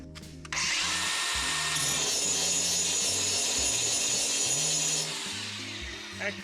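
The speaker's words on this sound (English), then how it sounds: "I'm just going to grind this side of the weld flat" Angle grinder working a weld flat on a steel safari rack for a 1969 Jeep CJ5, a loud, close, sustained grinding whine lasting several seconds before spinning down, with a voice and background music heard underneath.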